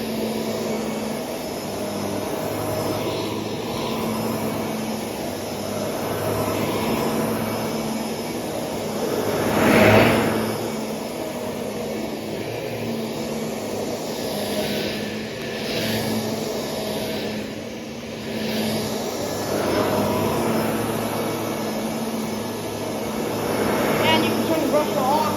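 A vacuum cleaner with a brush roll drones steadily and fairly loudly throughout, with slight swells in pitch as it moves, while a person talks over it.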